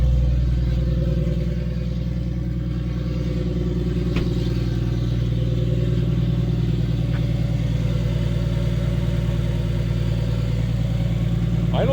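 Toyota 1JZ engine idling in a raised Lexus IS300 drift car, a steady, loud low rumble with even harmonics holding throughout, a faint clatter riding on top and a brief rev blip near the end.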